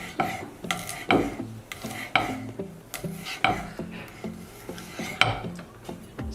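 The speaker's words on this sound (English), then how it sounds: "I'm going to use 2 cloves. And I'll just chop them." A knife finely chopping two garlic cloves, with a steady series of sharp, close taps on a cutting board, several per second, over soft background music.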